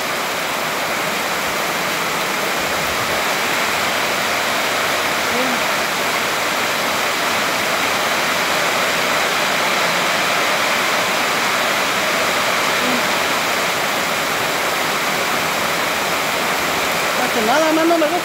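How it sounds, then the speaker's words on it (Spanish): Steady, dense rain pours down on a ranch in a constant broadband hiss, loud and close throughout. "Está lloviendo bien bonito aquí."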